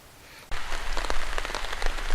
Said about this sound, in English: Well, the rain has arrived in earnest. It's really coming down now.